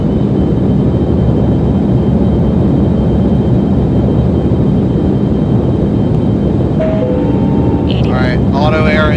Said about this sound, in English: I'm going to perform the takeoff in 3, 2, 1, now.